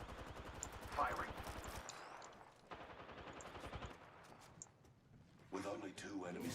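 Rapid automatic gunfire in a battle-royale shooter game, with dense bursts of shots, pauses, then more firing; a game announcer voice speaks over and between the shots.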